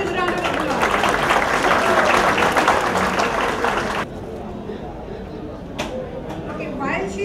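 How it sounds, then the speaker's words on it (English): Audience applause fills a hall at a school academy's anniversary literary awards ceremony, a dense wash of clapping for about four seconds before dropping to a softer, thinner patter with a few scattered claps. "Please give him a huge round of applause."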